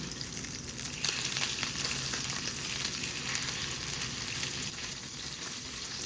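Pork belly sizzles steadily in a hot pan, a dense, continuous crackle of frying fat held close and loud throughout, with faint stirring noises underneath.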